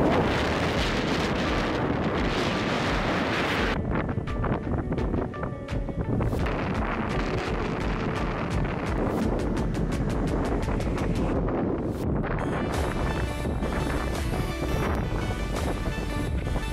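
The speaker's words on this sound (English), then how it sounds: "It is seriously windy up here!" Strong wind on a Cairngorms mountain buffets the microphone in loud, roaring gusts that fluctuate in intensity for the whole stretch, with no voices.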